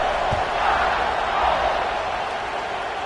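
A college football stadium crowd in an Alabama vs Arkansas video game match roars as one continuous broad wash of cheering, loud and sustained throughout, with a couple of dull thumps rising out of the din.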